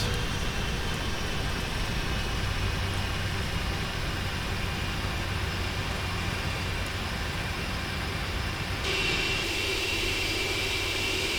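Boeing 747 jet engines roar steadily on landing in a flight simulator game, a dense, continuous whine and rumble from the thrust reversers that holds loud, then shifts in tone near the end as power changes.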